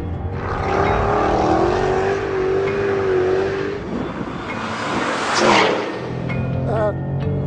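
A 2012 car on a track's corkscrew section revs hard with wheelspin, engine note climbing and wavering loudly up close, with a brief surge near the end.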